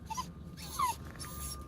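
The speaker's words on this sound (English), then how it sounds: "This is my needy puppy." A needy puppy whimpers close by, giving two or three short, high, thin whines within a second or two against a quiet room background.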